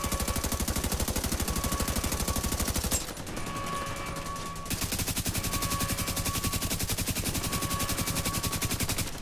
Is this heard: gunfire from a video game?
yes